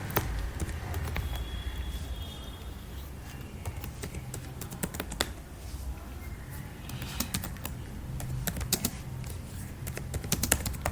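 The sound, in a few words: typing test code on a computer keyboard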